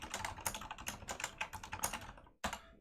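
Close, steady clatter of keys on a computer keyboard during a Python coding session, in quick irregular bursts with a brief gap near the end before it resumes.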